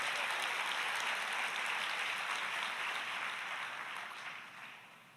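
A church congregation applauds together in a sustained burst of clapping that holds steady for several seconds and then gradually fades toward the end.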